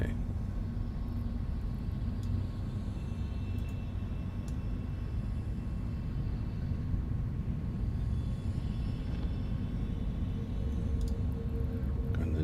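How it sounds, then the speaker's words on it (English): A spaceship afterburner in the space game Eve Online gives a steady low rumbling drone that holds throughout, with faint brief clicks from the interface. "okay, I'm gonna approach and turn on my afterburner."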